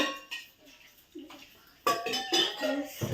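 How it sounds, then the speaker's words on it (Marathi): Pots and pans being scrubbed and rinsed at home, giving irregular clanks and scraping with a few short knocks early on, then a denser burst of clattering dishes in the last second, close and fairly loud. "इथली सगळी भांडी साफ करू"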